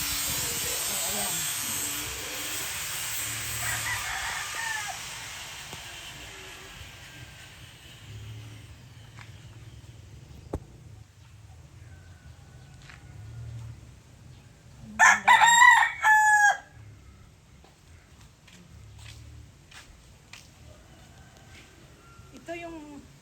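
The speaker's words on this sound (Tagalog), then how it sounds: "Ito yung mga manok ni San Pedro" A Texas gamefowl rooster crows loudly nearby in a couple of bursts, with faint background murmur and outdoor noise before and after.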